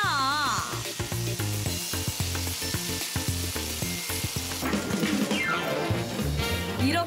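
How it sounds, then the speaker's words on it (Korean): Pork belly stir-fried with a seasoned green onion salad, a loud continuous sizzle close by with rhythmic scraping and tossing knocks from the spatula against the pan. "여기에 잡냄새를 한 번 더 잡아줄 파무침을 넣어 양념이 잘 어우러지도록 살짝 볶으면"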